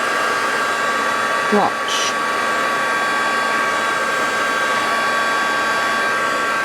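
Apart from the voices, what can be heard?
heat gun melting plastic into shape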